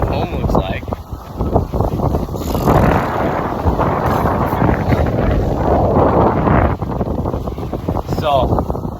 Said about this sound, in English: this is what sailing home looks like